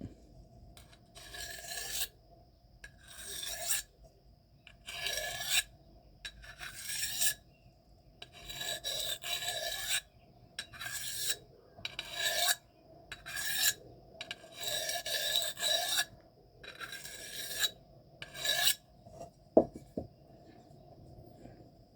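Knife steels M398, Maxamet and MagnaCut scraped across a sharpening stone in about a dozen separate rasping strokes, each roughly a second long, with short quiet pauses between them and a sharp click near the end.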